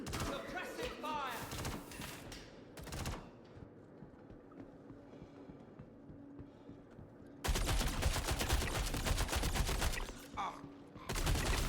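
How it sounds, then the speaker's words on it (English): Bursts of rapid gunfire ring out in the Star Citizen Alpha 4.8 video game, with dense volleys opening and closing the stretch and quieter pauses between them, and shouting voices mixed in. "Cover! Cover! Suppressive fire!"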